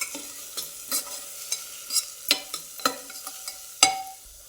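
Chickpea masala sautéed in a pan with red chilli powder, a spoon scraping and stirring in sharp repeated strokes over a soft background sizzle, close up and without talk.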